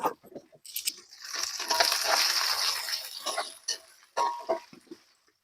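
Chili being fried with tempeh in a pan for orek tempe, a steady close sizzle and crackle swelling for a few seconds between scraping and stirring knocks, with no talking.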